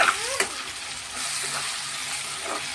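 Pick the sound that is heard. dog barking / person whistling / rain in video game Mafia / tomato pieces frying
tomato pieces frying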